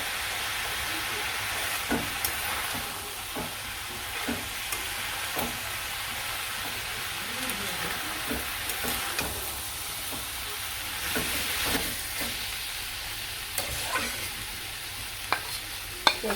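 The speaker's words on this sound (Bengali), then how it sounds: "মশলা দিয়ে মশলা ভেজে দিয়ে নেব" Spices with turmeric, chili powder and green chilies sizzle in a pan for a meat curry, a soft continuous frying hiss broken by scattered scraping taps of stirring, faint and close.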